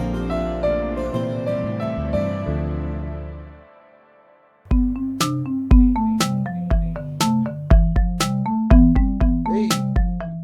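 A mobile phone rings with an incoming call, playing a bright electronic melody of tones that fades out, then starts again as a crisp, plucked tune, loud and close, with no talking.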